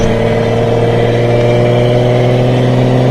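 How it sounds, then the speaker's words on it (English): A 1972 Series 2 Datsun 240Z engine with triple Weber carburetors idles steadily with a smooth, even drone and strong low hum, loud and close throughout. "the highlight on this car is actually the sound. Triple Weber mix, very nice."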